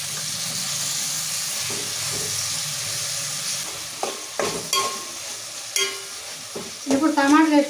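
Tomatoes sizzle and fry in a pan of potato and fenugreek curry, with a steady hiss building to louder stirring scrapes and bursts of spitting oil near the end.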